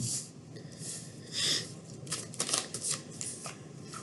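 Slightly old, sticky tarot cards are shuffled and drawn by hand, giving quiet, close riffling and soft card slaps in short bursts, with no talking.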